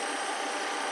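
A Rolls-Royce RB211 jet engine on a Boeing 747-200 spools up at start with a steady, broad whine and hiss, loud and constant for a moment, with no low rumble yet and no voices.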